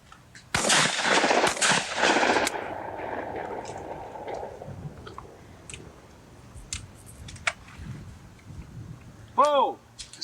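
Shotguns fire at clay targets during a sporting clays championship, a cluster of sharp close blasts in the first seconds, then scattered fainter reports, with a commentator and onlookers talking.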